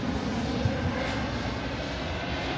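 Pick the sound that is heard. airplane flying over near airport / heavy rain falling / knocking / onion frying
airplane flying over near airport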